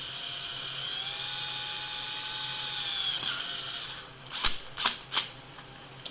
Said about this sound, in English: basically just drilled a pilot hole